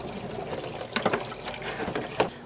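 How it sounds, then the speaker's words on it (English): Aquarium filter sponges rinsed under dechlorinated tap water, a steady splashing stream with brief squelchy bursts as the sponges are squeezed, close and continuous with no talk. "We're gonna go and clean them with dechlorinated tap water."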